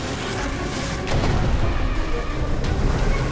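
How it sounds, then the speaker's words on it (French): A German submarine's torpedo strikes a Royal Navy warship armed with more than 24 guns, giving a dense, roaring blast that swells after the first second and keeps rumbling to the end, with no talking. "Une autre torpille a touché le navire, ce qui l'a encore plus abîmé."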